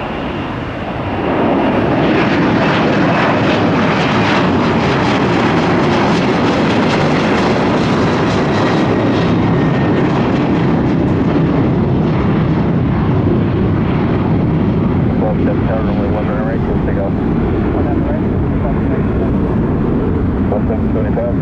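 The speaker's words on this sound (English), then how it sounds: "5-year-old 767 heading home to Memphis" A five-year-old Boeing 767 heavy jet roars at Tampa airport, a loud sustained engine rumble and hiss that fills the whole stretch, with someone talking over it.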